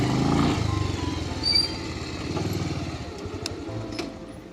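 Motorcycle engine running at low revs as the bike is parked near the Cheena Peak trek entrance in Nainital, Uttarakhand; a steady close rumble that eases off and fades toward a quieter idle.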